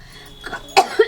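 A short burst of coughing from someone with a sore throat after the cold, two or three harsh, close coughs in quick succession.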